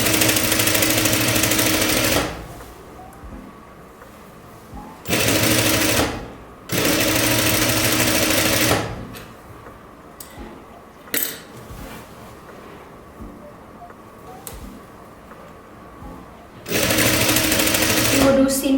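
Sewing machine stitching the seam of a jumpsuit in loud bursts of a few seconds each, with quieter gaps between runs where handling noise and faint activity are heard.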